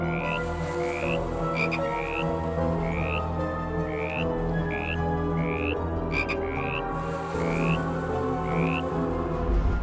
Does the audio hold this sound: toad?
yes